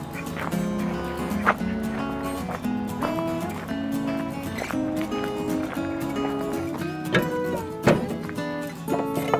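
Ducks on a homestead quack in scattered bursts close by, mixed with irregular clucking, clatter and other farmyard noises.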